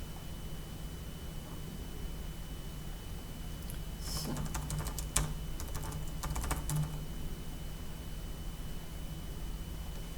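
A burst of typing on a computer keyboard in a quiet room, a few seconds of quick clustered keystrokes in the middle with one sharper clack, over steady background hum.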